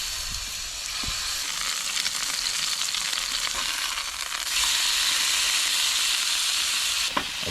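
An egg sizzles and fries in a pan inside a micro camper, a steady close hiss and crackle running throughout with brief pops and a slightly louder stretch toward the end.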